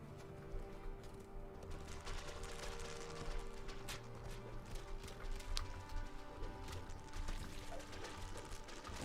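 Horse hooves clip-clopping in a video game, a quick irregular run of hoof clatter over a busy mix of game sounds and faint bird calls, fairly quiet throughout.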